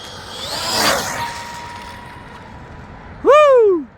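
An ARRMA Infraction 8S RC car with a Hobbywing Max6 electric system at full throttle: a faint whoosh early on, then a sudden loud, high-pitched electric motor whine that sweeps up and drops away over about half a second.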